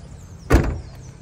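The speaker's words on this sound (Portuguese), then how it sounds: "tá aí o porta-malas. Fechar aqui." The trunk lid of a Volkswagen Polo 1.0 shuts with a single solid thump, preceded by a quiet low hum.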